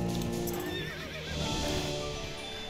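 A horse racing in the video game Star Stable Online: rapid galloping hoofbeats with a loud whinny near the start, close and continuous, without voices.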